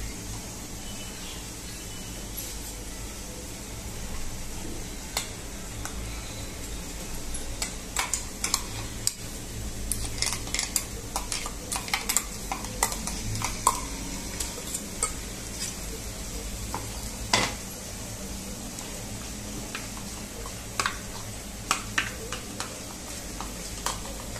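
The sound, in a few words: ginger garlic chilli paste frying with onion in pan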